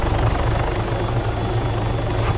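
A helicopter in the video game Arma III, a loud, steady rotor thump beating in a fast even rhythm over a whining engine drone, close and continuous throughout.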